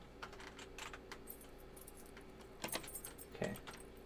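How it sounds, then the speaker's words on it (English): Keys jangling while trying a door lock in a Halloween fan video game, faint metallic clinks and rattles spread over the clip with a sharper jingle near the end. "Press 1, 2, 4 to try your keys."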